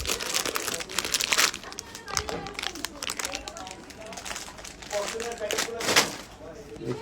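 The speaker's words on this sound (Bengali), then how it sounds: "ফয়েল প্যাকেট বানাবেন।" Foil packaging being handled and crinkled up close, a continuous rustle of crumpling and crackling with a few louder bursts, running without pause through the whole stretch.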